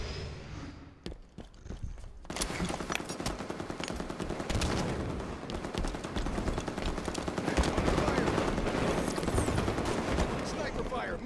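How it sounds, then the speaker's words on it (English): Sniper fire in the Halo 5 arena multiplayer game cracks out in several sharp shots at first, then gives way to sustained rapid gunfire and battle noise, with voices talking over it. "Sniper fire, move it."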